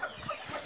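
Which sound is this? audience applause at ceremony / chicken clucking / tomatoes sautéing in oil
chicken clucking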